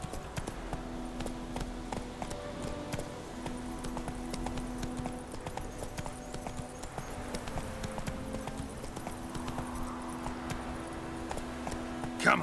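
Hooves of Roach, a horse in The Witcher 3 video game, clip-clop in a steady rhythmic gait throughout under continuous game music, moderately close and even in level.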